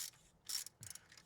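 A hand ratchet with a 13 mm socket tightens a bolt while fitting a supercharger to an MGB GT, giving brief, quiet bursts of rapid pawl clicks in three short runs, with no voices.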